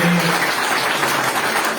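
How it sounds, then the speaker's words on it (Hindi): A steady wash of applause fills the whole moment, many hands clapping together at an even, sustained level with no break. "आप तालियां बजाकर स्वागत करते रहिए"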